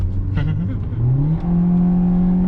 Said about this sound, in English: Revving up that intelligently variable transmission